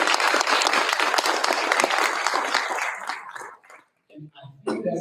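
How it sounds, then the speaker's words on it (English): Audience applause for a school Board of Education at a board meeting, loud and sustained clapping for about three seconds, then fading out to scattered claps with a voice starting to speak near the end. "So one last round of applause for our Board of Education."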